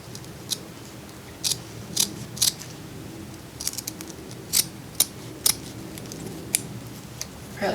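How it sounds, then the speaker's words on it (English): Scissors snipping burlap to shape flower petals, a series of crisp, close cuts coming in irregular clusters of two or three, with brief pauses between them. "then I just kind of started cutting petals. And I just basically take little divots out. So I'm cutting little triangles out."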